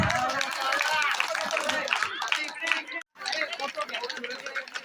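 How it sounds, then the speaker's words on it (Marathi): Attendees at a Marathi religious parayan gathering clap together on request, a dense, lively burst of many hands with chatter mixed in, briefly cutting off before resuming. "टाळ्या वाजवा, टाळ्या वाजवा."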